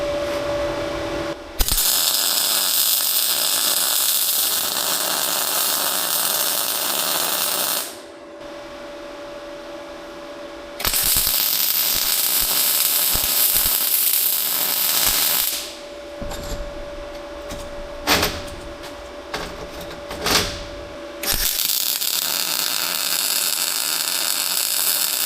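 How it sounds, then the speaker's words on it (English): A YESWELDER MIG-205 Pro multi-process welder in synergic mode lays MIG beads on a steel welding table, giving several loud, close crackling bursts separated by short pauses, with no talk. "This really welds excellent."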